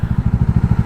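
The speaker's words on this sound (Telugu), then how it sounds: "నా బైక్కి ఏమో ఇది వచ్చేసి దానికి తగులుతూ ఉంది" A motorcycle part catching and rubbing against another part, giving a fast, steady series of low scraping thumps, about a dozen pulses in under a second, close by.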